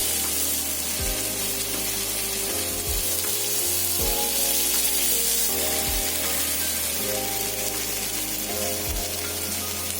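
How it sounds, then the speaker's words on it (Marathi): Bangda mackerel fry in oil in a pan, a steady loud sizzle and crackle that runs throughout, with occasional low thumps from the pan being handled. "आता बांगडे चांगले फ्राय झाले"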